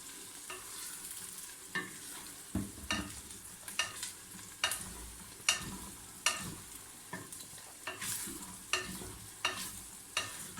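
Ghee and oil fry in a pot for Hyderabadi chicken biryani, a soft continuous sizzle marked by rhythmic scrapes and clinks of a spoon stirring roughly every second, close up, with no talking.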